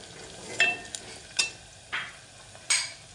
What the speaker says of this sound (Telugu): సో అది కొంచెం వేగాలండి. ఇలా కలుపుకోండి.